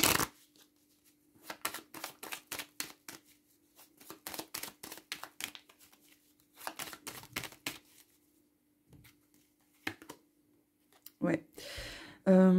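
Cartomancy cards are shuffled in repeated quick riffling bursts, each a crisp flurry of clicks separated by short pauses, close and fairly quiet, with a brief louder rustle at the end.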